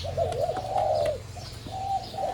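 A dove (nok khao) coos in repeated soft, rolling phrases, nearby and clear, with a short pause between calls and faint chirps in the background.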